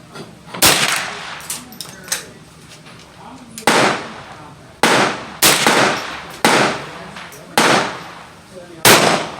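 Ruger 10/22 Takedown semi-automatic rifle fires about eight sharp, loud shots at an outdoor range, spaced irregularly roughly a second apart, each with a quick decaying echo.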